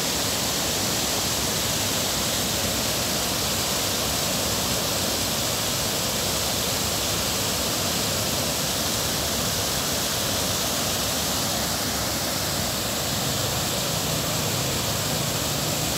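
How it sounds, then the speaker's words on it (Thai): Loud, rushing river water flowing steadily, a dense, unbroken roar that holds close and constant throughout with no other sounds standing out. "เสียงน้ำดังเจ้า"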